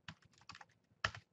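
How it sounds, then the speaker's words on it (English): Quick, soft keystrokes on a computer keyboard, with about a dozen light clicks in an irregular burst close to the microphone and one slightly louder tap near the end. "I'm just going to type in Disney Resorts."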